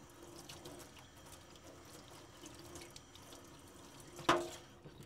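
Tap water runs faintly and steadily while a PPE headband is rinsed in a sink, with a brief louder clack of plastic near the end.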